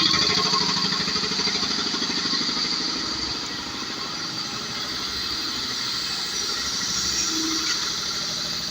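An air compressor with air leaks, used while working on an Isuzu Trooper's upper control arm bushings, runs in a continuous loud mechanical chug and hum with no break and no talk.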